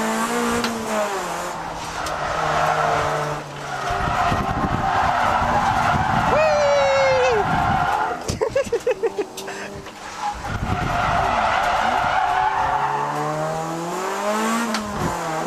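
A Honda Prelude drifting on a mountain touge road: engine revving and surging over the length, with long tire squeals and skids sliding through corners, close and loud, a fluttering engine stutter in the middle.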